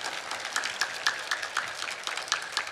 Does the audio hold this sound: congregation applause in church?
yes